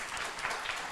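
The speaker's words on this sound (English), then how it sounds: "Give her a warm round of applause." Brief wash of audience applause at a community film premiere, soft and fairly distant, a dense steady patter without voices over it.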